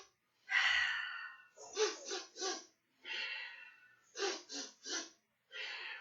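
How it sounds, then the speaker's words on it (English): During children's yoga, a single person takes breathing rounds, each made of three quick sniffs in followed by one long breath out, repeated in a steady rhythm, close and clear with silence between rounds. "starting with 3 sniffs in, 1 out"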